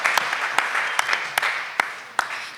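Applause at an arts event for the performer Puerto Rock: a light, sustained patter of clapping with a few sharp, close, individual claps at regular intervals, no talk.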